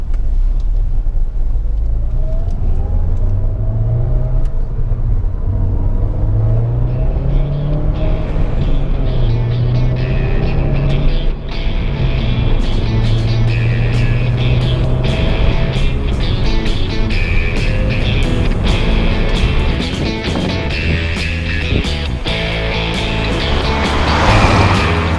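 A 2007 Mini Cooper S on the move gives a loud, steady engine and road rumble throughout, with the pitch climbing and falling as the car accelerates and shifts, and no speech.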